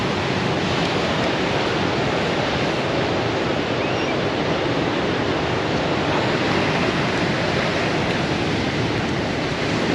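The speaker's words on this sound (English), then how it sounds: "The waves are ginormous." Loud, continuous roar of large ocean waves crashing and surging, a steady wall of surf noise with no break throughout.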